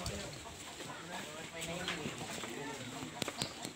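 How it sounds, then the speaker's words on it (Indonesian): Jungle fowl cluck faintly amid a busy outdoor background, with people talking over the birds and a few sharp taps near the end. "Ayam hutan. Oh, ayam hutan."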